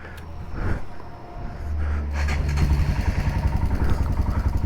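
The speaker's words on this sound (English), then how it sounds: "all right, we have my Himalayan. Good, Max. First time riding in such a long time." A Royal Enfield Himalayan 462cc motorcycle rated at about 40 horsepower rumbles close by: some thumps and clatter, then the engine's steady low throb builds as the bike pulls away on a ride.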